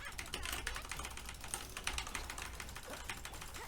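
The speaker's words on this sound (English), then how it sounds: "after a bit of keyboard spamming" Rapid computer keyboard spamming during Genshin Impact combat against a boss, a quiet, continuous flurry of fast clattering key taps mixed with faint game effects.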